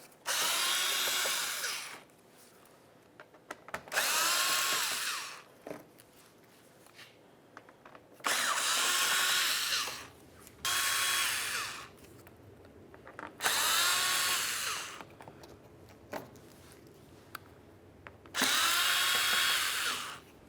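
A power drill backs out Phillips head screws from the bumper of a 2007-2012 Nissan Sentra in seven or so short, even whirring bursts of about two seconds each, close up, with brief quiet gaps in between.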